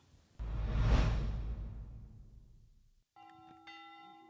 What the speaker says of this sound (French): 14h, les cloches du monastère Sainte-Marie de la Garde appellent les bénédictins pour l'office de nonnes.